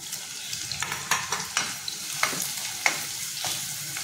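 Onion frying in a pan for a Malvani bombil-potato dish, a continuous close sizzle with frequent ticking crackles and occasional stirring scrapes, moderately loud throughout; nobody talks.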